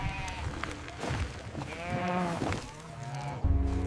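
Cows lowing on a road, mothers pulling back toward their calves, a steady run of overlapping moos and bleat-like cries with farmyard bustle, ending in a louder low thump.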